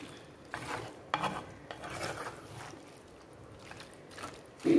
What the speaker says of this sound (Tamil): இப்போ நான் இதை வந்து சட்டியில் போட்டதுனால கொஞ்சம் கிளறி விடுறேன்